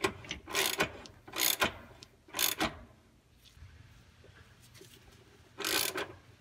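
Ratchet wrench tightening the bolts on a Corvette magnetic damper, several short loud bursts of close mechanical clicking separated by pauses, with one final burst after a quiet gap.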